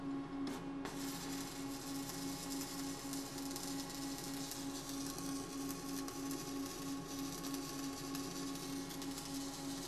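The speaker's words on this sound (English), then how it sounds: "we're going to weld a file, which we know is a very high carbon steel, to a piece of mild steel" Arc welding a high carbon steel file onto mild steel with a Vulcan SunArc alloy rod, a steady close crackle and buzz with a strong constant hum running unbroken through the whole stretch.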